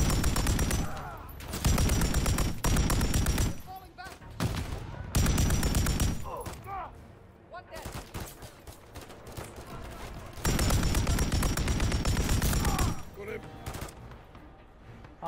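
Bursts of PKP machine gun fire in the Modern Warfare III campaign, with several sustained loud volleys separated by short pauses and scattered battle noise, while voices talk over the gameplay.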